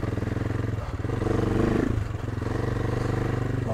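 A dirt bike motorcycle riding off-road on an Italian enduro trail, its engine pulsing steadily with a rhythmic chugging throb and a brief rise in revs midway, close and continuous throughout.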